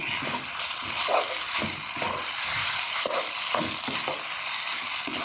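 Liver and garlic stir-fried in a hot pan, hissing with a steady, close sizzle broken by rhythmic scrapes and tosses of the spatula, with no voices over it.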